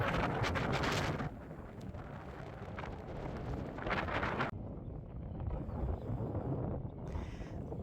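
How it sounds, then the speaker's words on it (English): Strong wind gusts buffet the microphone on Rottnest Island, a loud continuous roar that surges and eases throughout with no voices. "But it was really windy."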